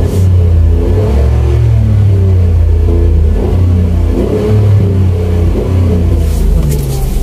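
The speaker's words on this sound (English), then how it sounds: "before we start, we will have our reviving." A manual car's engine revs loudly and steadily for several seconds, a deep rumbling drone rising and falling close by, with faint voices underneath.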